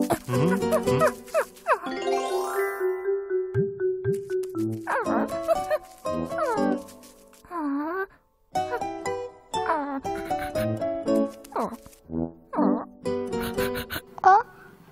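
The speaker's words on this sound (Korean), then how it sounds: "어? 강아지다." A small dog barks and yips in short bursts, interleaved with a cheerful synthesized musical score and faint jingling, in a children's kindergarten-style programme setting.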